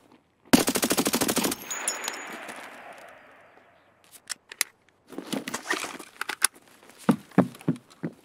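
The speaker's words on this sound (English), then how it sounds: "Actually disgusting how overpowered this gun is." An overpowered gun in the video game Escape From Tarkov fires one rapid, loud burst of about a second that rings off, followed by scattered quieter shots, clicks and clatter over the next few seconds.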